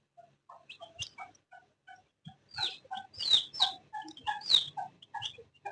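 Chickens clucking and calling close by, a run of short bursts that thickens in the middle into overlapping squawky calls, with brief pauses between, no talking.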